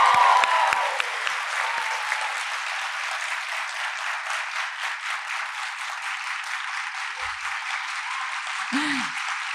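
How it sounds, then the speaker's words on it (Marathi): Audience applause at a prize distribution for a Sanskrit one-act play competition, a dense sustained roar of clapping from a large crowd, steady throughout with a faint voice near the end. "मस्त, अशाच टाळ्या अपेक्षित होत्या।"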